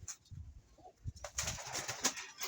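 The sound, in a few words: pigeon cooing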